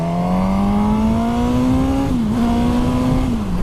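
A Suzuki GSX-S1000 straight-four motorcycle engine with no variable valve timing revs up with a steadily rising whine, then dips briefly and climbs again as it shifts. It is loud and close and heard alone.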